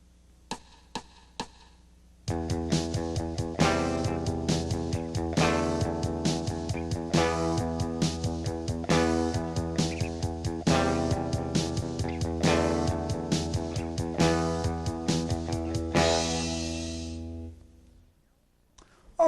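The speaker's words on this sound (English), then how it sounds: "And with the drums, it sounds like this." Rock guitar strumming chords together with a drum beat at a steady 132 bpm, loud and continuous after a few sparse opening clicks, then fading out near the end; no talking.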